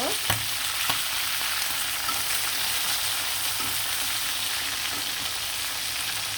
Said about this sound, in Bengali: লেগ পিসগুলো কিন্তু ভাজা ভাজা হয়ে গেছে